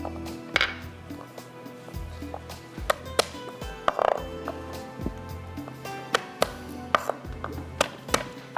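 A knife chops garlic finely on a cutting board, making crisp, irregular taps that speed up into quick runs with short pauses between them, close and clear.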